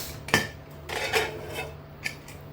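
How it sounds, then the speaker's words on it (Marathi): A metal pressure cooker holding cooked taro-leaf curry is opened, giving a sharp metallic clank followed by softer scraping and a second light knock, close and fairly quiet. "आता मी कुकर उघडून बघते शिजले का."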